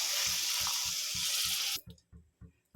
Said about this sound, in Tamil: இப்போது தண்ணி ஊற்றிக்கணும்